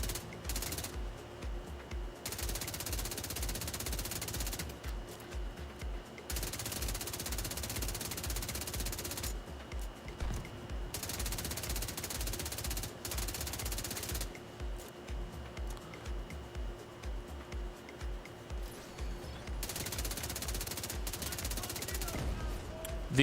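Suppressed assault rifle fire from The Division 2 comes in repeated bursts of muffled rapid shots separated by short pauses, steady and moderately loud across the stretch, with a voice talking underneath.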